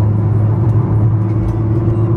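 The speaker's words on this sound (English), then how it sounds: "Look at what we have ahead of us, guys. A 69 Camaro." A 1969 Chevrolet Camaro rolling ahead on the road with a steady, loud low engine rumble and drone, heard up close with no talk over it.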